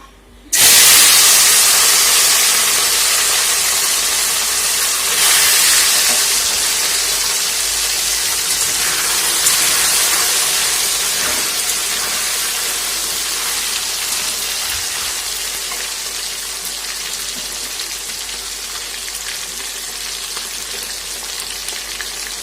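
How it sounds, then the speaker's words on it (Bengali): Fish dropped into hot oil bursts into a loud, dense hiss that stays strong and steady, fading only slightly over the length, close up with no voices. "তো চলো আমি তাড়াতাড়ি মাছটাকে ভেজে নিই।"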